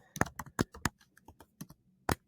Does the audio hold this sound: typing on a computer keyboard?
yes